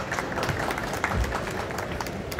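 Audience applause fills a conference hall at the MWC Barcelona 2024 showcase, a steady broadband wash of many hands clapping through the whole stretch with a faint voice underneath.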